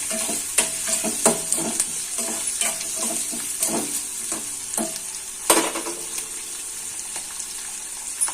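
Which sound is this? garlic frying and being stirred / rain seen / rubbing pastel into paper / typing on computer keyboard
garlic frying and being stirred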